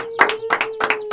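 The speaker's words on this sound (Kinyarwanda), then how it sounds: "Reka rwose Foromina twongere tumuha amashyi nyamuneka." A few people clap in a radio drama scene, giving four short bursts of quick double claps in a steady rhythm, close and fairly loud against a faint constant hum.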